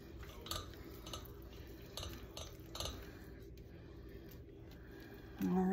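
Coconut stirred into German chocolate cake batter, giving quiet clinks and scrapes of a utensil against a bowl in an irregular rhythm over a steady background hum.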